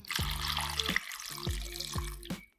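Water from a kitchen tap runs into a cup in bursts, with a few hollow gurgling, rising tones as it fills, close up, followed by a brief drop to quiet at the end.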